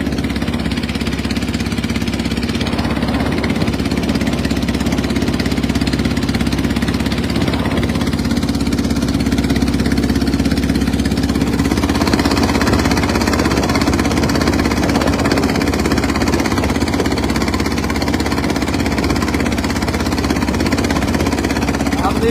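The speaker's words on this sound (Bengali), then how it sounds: "শহীদ ইসহাক মোহাম্মদ আবুল খায়ের সাহেব হুজুর বর্তমানে নিজেই ট্রলার ড্রাইভ করে যাচ্ছেন" A trawler boat engine running on the water near Barisal, a loud, constant low drone that stays close and unbroken for over twenty seconds, with faint voices beneath it.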